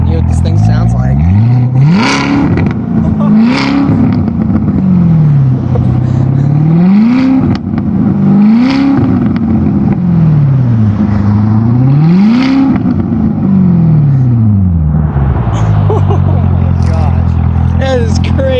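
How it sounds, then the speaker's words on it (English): A 2019 Corvette ZR1 sits stationary while its engine is revved hard, several loud rising and falling blips in a steady rhythm over a deep idle, with people talking over it. "I'm gonna go ahead and get some revs for you guys so you guys can hear what this thing sounds like"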